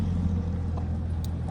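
Passing cars on a road in rural New Mexico, a steady low rumble of traffic going by in the background with no voices.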